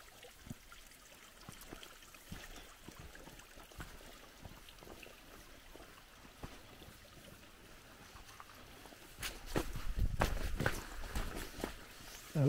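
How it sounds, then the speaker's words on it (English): A small trickle of water runs down a creek or canal on agroforestry land, a faint, steady wash under a few nearby footsteps and rustles that grow louder toward the end. "A small amount of water coming down the creek."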